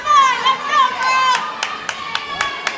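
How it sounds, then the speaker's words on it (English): Crowd cheering and shouting at a CrossFit competition, the 2023 Invictus Boston Invitational, with whoops and yells rising over a busy arena and sharp claps or bangs punctuating the second half. "Gonna get a great cheering squad here today"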